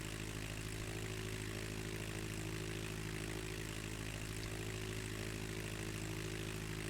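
Steady propeller airplane engine drone from Microsoft Flight Simulator X, a continuous loud hum with stable low tones throughout, no voices.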